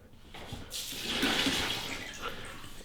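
Coolant running out of a Corvette C7 radiator as it drains, a splashing, trickling pour that builds after a quiet start, peaks midway and then tapers slightly, heard close with no talk.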